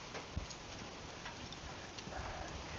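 Rain falling outdoors ahead of an approaching hurricane, a quiet, continuous hiss with scattered faint drips and ticks.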